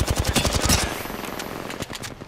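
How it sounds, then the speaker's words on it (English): Close rapid automatic gunfire in Apex Legends, a loud rattling burst of shots that thins out into scattered single shots. "Opening fire."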